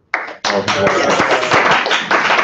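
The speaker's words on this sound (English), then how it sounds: "Okay, let's all start clapping." Audience clapping that starts abruptly after a short pause, then continues as dense, steady applause-like patter, close.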